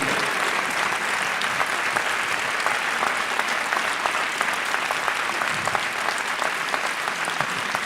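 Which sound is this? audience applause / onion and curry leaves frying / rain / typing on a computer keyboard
audience applause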